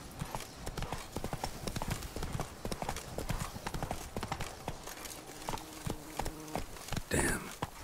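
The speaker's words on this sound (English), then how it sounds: "Whoa there, Roach. Not so fast, Roach" Hoofbeats of a horse named in The Witcher 3 video game, a steady rapid clip-clop of galloping hooves close up, with game ambience and a brief louder burst near the end.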